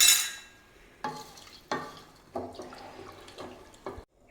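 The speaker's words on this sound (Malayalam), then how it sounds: "വെള്ളം ഒഴിച്ചു കൊടുക്കുകയാണ്" Water poured into a pot of rice and salt for beef biryani, a bright splashing rush at the start followed by several short sloshing bursts and quieter stirring scrapes, close and without talk.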